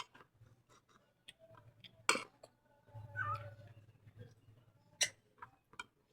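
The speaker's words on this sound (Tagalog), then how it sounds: "Ang ingay ng pusa namin guys." A cat meows a few times in a quiet room, with a couple of sharp clicks or taps and faint background noise between the calls.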